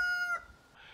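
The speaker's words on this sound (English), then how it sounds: "even right now, this morning, he's still crowing. He crows all day long." A rooster crows on a farm: a single loud, close crow that breaks off abruptly, leaving quiet background.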